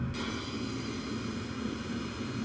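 Steady, continuous engine drone of a Dassault Falcon 7X business jet in flight in a flight simulator game, a low rumble with a faint high whine, unchanging throughout.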